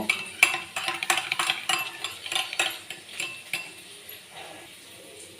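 Yogurt mixed with coriander powder and garam masala being whisked in a bowl, a run of quick clinking taps of a utensil against the bowl, rhythmic and close, gradually fading softer.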